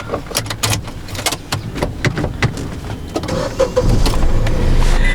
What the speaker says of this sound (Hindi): let's start the car